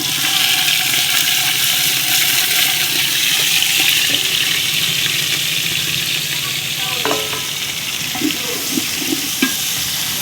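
Mixed vegetables fry in oil in a pan for a vegetable khichuri, a steady loud sizzle running throughout with occasional stirring clinks toward the end.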